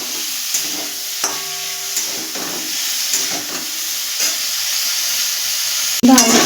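Cauliflower frying with turmeric in a pan, a loud, steady close-up sizzle and hiss with occasional stirring clatter, then a sharp surge of sizzling near the end.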